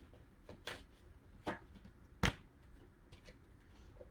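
Tarot cards shuffled by hand in a quiet room, giving a few soft, brief riffling bursts spaced apart with one sharper slap of the deck near the middle.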